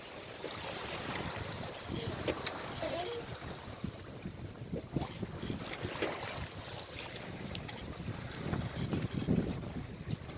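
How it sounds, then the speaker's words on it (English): Wind buffets the microphone in uneven gusts aboard a sailboat off the Scottish coast, with water and boat noises underneath, fairly quiet overall. "It's got some rain coming over now and then, and some nice gusts from astern"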